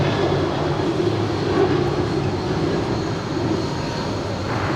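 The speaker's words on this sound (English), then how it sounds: "It's the Qantas Dreamliner landing up there on the north side." A Qantas Dreamliner lands at LAX, its jet engines a broad, steady roar at a moderate distance that holds throughout and eases slightly near the end.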